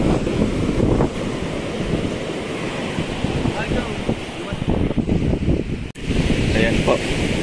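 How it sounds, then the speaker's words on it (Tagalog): Strong ocean waves wash onto a beach at Paracale in a continuous surging roar, mixed with gusty wind buffeting the microphone and brief voices in the background. "Lalakas po ng alon."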